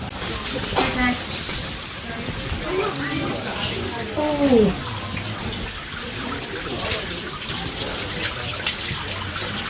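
Water drips and trickles into the well inside Mother Shipton's Cave, a steady watery splashing heard nearby. Voices talk over it at times.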